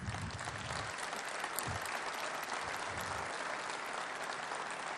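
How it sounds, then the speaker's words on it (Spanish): A large audience at a speech breaks into loud, sustained applause, dense clapping that holds steady throughout with no voices over it. "los medios van a editar este aplauso"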